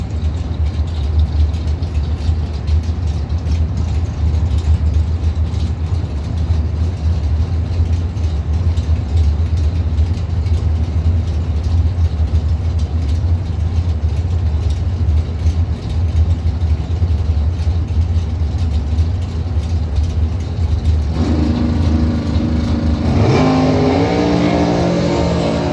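Drag race engines, a dragster against a 1981 Camaro, roar loud and steady throughout, with a brief rising rev surge near the end; no talking.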